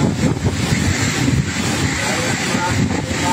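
Strong storm wind buffets the microphone with a continuous, loud broadband roar, and heavy rain pours during a storm in Aurora, Quezon. There is no speech, and no separate rain patter is distinct.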